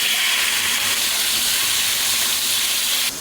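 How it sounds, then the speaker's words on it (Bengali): Paneer fries in hot oil, a dense, loud, steady hiss of sizzling close by that cuts off abruptly just before the end. "এখন পনিরগুলো আমি ভেজে নেবো"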